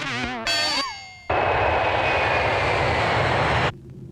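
A jet airliner's engines roar loud and steady in a film scene before takeoff, a broad sustained rumble and whine lasting a few seconds after brief tonal sounds, then cutting off abruptly.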